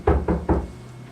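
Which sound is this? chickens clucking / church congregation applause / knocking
knocking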